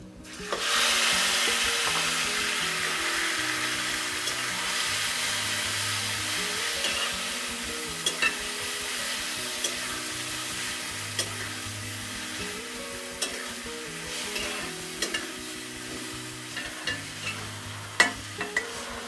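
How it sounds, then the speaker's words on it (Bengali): Boiled raw papaya frying with browned onions in a pan, a steady close hiss of sizzling oil broken by occasional scraping and stirring clicks, continuous and alone with no talking. "এখন আমি এর মধ্যে সেদ্ধ করা পেঁপেটা দিয়ে দিব"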